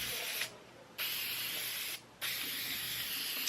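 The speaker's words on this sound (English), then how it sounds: "And I am going to spray." An aerosol can of adhesive spray applied to the back of a printed image, heard as two long steady hissing bursts separated by a short pause, close and fairly loud.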